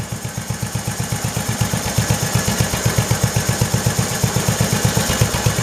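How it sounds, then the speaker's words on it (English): A small 1968 Kohler gasoline engine idles steadily nearby, its rapid, even putt-putt pulses continuing without a break. "Idled the motor down a little bit."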